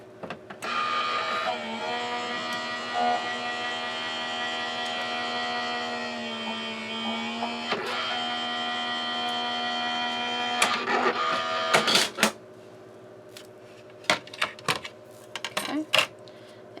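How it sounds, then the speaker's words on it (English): A die-cutting and embossing machine feeds a taped-down greeting card through, giving a steady mechanical whirring hum for about eleven seconds, followed by a few sharp clicks and clacks as it stops. "we're going to run this through. This is going to emboss it."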